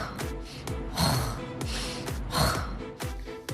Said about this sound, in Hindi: वो बड़ी गहरी नींद सोती हुई दिख रही हैं और खर्राटे भी ले रही हैं